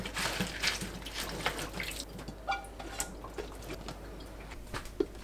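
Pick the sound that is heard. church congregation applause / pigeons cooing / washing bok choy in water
washing bok choy in water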